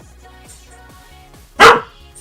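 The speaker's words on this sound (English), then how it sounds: "No more barking for you." A dog gives one loud, sharp bark up close, standing out against a quiet backdrop of soft rhythmic ticking.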